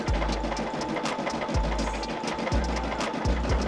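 A Brother SE600 embroidery machine stitches a design onto a hat, giving a steady, fast mechanical chatter with a low motor hum. Periodic brief pauses and thumps break the rhythm, heard up close with no talking.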